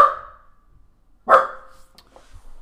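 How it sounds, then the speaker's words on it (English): A dog barks twice, close and loud, with a pause of about a second between the sharp single barks. "Sorry that my dog is barking."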